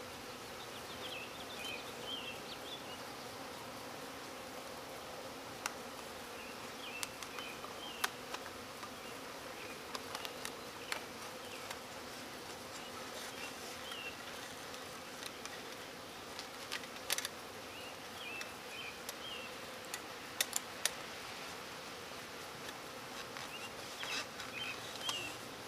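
Honeybees buzz steadily around backyard hives during routine hive maintenance, a continuous mid-level drone with occasional soft knocks and clicks from handling the boxes.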